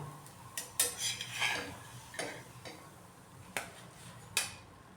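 Roasted paratha lifted from a pan onto a plate, with scattered light metallic clinks and scrapes of a utensil against cookware, quiet and intermittent.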